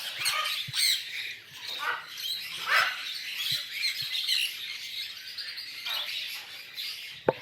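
Birds squawk and chirp all around at close range in an irregular, busy chatter, with scattered calls from several directions and one sharp click at the end.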